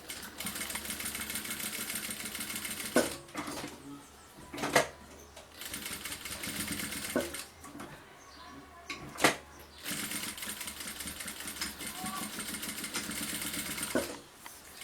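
Domestic sewing machine stitching fabric and bias binding for a handmade bag, running in steady whirring bursts separated by short pauses and clicks, close and fairly loud.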